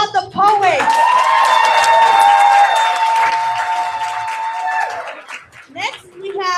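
Audience at a youth poetry slam bout clapping and cheering for a poet, a dense wash of applause with whistles and shouts that fades as voices take over.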